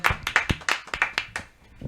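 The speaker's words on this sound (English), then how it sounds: "Give her another round of applause because she did her thing" Scattered, uneven hand claps from a small audience at a live Sulit Sunday's show, greeting a performer who just finished. About a dozen sharp, close claps fall in a loose rhythm and thin out near the end.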